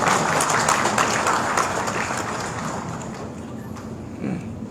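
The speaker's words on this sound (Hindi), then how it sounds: "जोरदार ताली बजा करके इस आभार को व्यक्त करते हैं" Audience applause at a national working committee meeting of a political party's Scheduled Tribes wing, a dense sustained clapping from a large crowd that gradually fades over several seconds.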